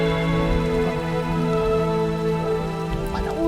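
Steady rain falls in a continuous, even hiss that stays loud throughout, with faint tonal sounds in the background.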